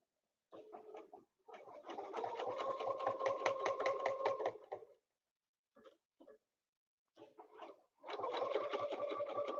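Sewing machine stitching double lines along spokes in a quilting demo, running in steady rapid bursts of needle strokes with short pauses and stops between runs, close and fairly loud.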